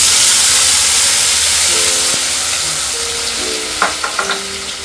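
Onion and tomato paste fries in a pan with a loud, close hiss that eases off slowly, while a few light tonal clinks and taps sound near the end.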